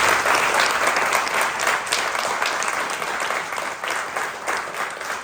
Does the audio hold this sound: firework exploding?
no